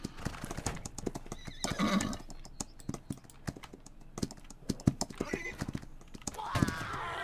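Horse hooves clip-clopping in a rapid, irregular patter with a couple of whinnies, from a mounted dragoon in the multiplayer battle game Holdfast, mixed with keyboard clicks and game noise.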